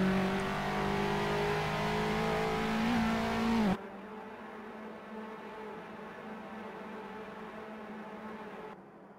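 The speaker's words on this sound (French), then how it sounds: "Donc là, je crois reconnaître la voiture de Tanguy." Clio Cup race car engines roar in the Assetto Corsa racing game at the Ledenon circuit, a loud, sustained high-revving drone that abruptly drops to a quieter, steady engine hum partway through.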